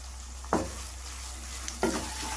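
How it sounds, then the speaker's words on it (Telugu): Thinly sliced onions and green chillies fry over medium heat in a pan with a low, even sizzle, broken by two short spatula scrapes. "ఇప్పుడు ఇవన్నీ ఒక రెండు మూడు నిమిషాల పాటు మీడియం అంట మీద ఫ్రై చేసుకోవాలి"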